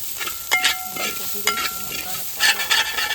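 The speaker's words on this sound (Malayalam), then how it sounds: "അപ്പൊ നമുക്ക് അതുകൂടി ഇട്ടിട്ട് ഒന്നുകൂടി ഇളക്കി കൊടുക്കാം" Chicken curry masala with coriander powder stirred in a pan, with a spoon scraping and clacking in irregular strokes over a continuous sizzle. The stirring is close and clear, and no one talks.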